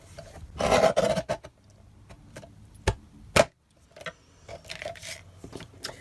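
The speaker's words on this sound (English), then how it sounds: "So I am going to pull in my trimmer because we do have some layers here." A paper trimmer slices through layered cardstock panels for a handmade card, giving a few sharp scraping cuts and clicks with quiet handling between, close and fairly soft.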